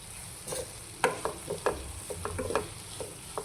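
Chopped ivy gourd (tindora) mixed with turmeric in a frying pan, a steady close sizzle broken by a series of sharp spoon scrapes and taps, with no voices.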